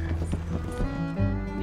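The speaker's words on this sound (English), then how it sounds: "Good job, horsey, random horsey that I just stole" Hooves clip-clop in Red Dead Redemption 2 as a horse moves along, a brief run of close, rhythmic hoof knocks with a faint whinny-like tone.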